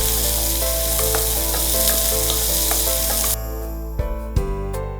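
Mango pieces sauté with shallots and garlic in a hot pan, a loud, dense, continuous sizzle that suddenly drops, followed by a few stirring knocks.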